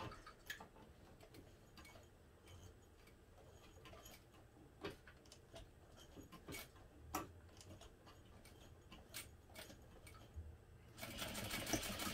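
A sewing machine stitches a line along a seam on a garment, heard as a quiet, even run of soft ticking clicks, faint and steady, growing a little louder near the end with no talk.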